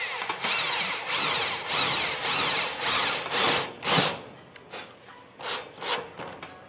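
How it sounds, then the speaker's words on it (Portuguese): A power drill drives screws through metal roof flashing while finishing a roof, giving a series of short whirring bursts with brief pauses between them, close and fairly loud with no talking. "Vou colocar dois parafusos aqui para não precisar"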